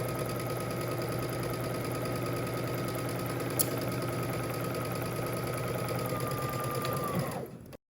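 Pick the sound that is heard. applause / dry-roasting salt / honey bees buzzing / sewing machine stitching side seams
sewing machine stitching side seams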